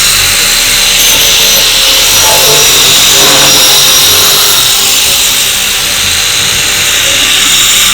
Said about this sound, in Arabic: انا ادي شنيور بقى